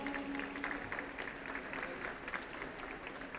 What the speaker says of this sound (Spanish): Lo aplaudimos.